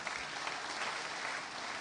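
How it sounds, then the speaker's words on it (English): Brief round of applause from an audience at an education summit event, steady dense clapping heard at a low level from across the hall, with no speech over it. "the governor deserves a round of applause for that"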